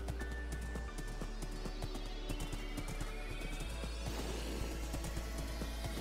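Horse sounds in Minecraft survival multiplayer: scattered hoof clops and sharp knocks over a low hum, with a neigh-like tonal cry near the start and busy game noise throughout.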